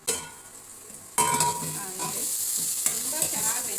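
Egg palya, a stir-fry of egg with capsicum, being turned in a hot pan, giving a soft sizzle that jumps louder partway through as a spatula scrapes and stirs, close up with no voices.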